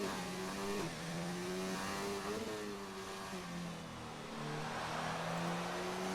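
A race car engine in the Xbox racing game F1 at the Hungarian Grand Prix revs and accelerates steadily through gear changes, its tone rising and dipping with each shift, loud and continuous with no talk.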